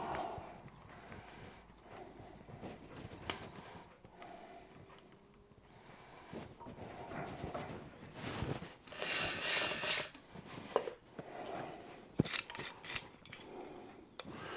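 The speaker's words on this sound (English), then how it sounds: "We'll try the 6mm drill. Once again, no pilot hole." A power drill with a 6mm bit whirs and grinds in bursts as it bores without a pilot hole, with scraping, clicks and pauses between runs.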